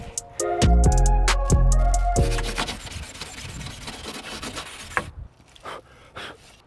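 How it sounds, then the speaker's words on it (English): Someone sands the paint on a New Edge Mustang GT by hand with a Brillo pad before a roll-on truck bed liner paint job, producing close scraping and rubbing strokes that follow a loud tonal burst at the start. "I'm gonna go ahead and sand the rest of the car."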